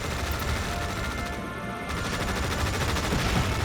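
Gunfire in the video game EndWar crackles in dense, rapid bursts of automatic fire, loud and continuous over a rumbling battle background.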